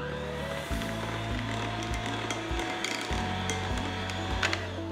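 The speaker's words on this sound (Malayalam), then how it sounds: "എന്നിട്ടൊന്ന് ബീറ്റ് ചെയ്തെടുക്കുക." Cake batter of flour, banana and honey being beaten: a continuous close mechanical whirring, broken by short rhythmic pulses and pauses.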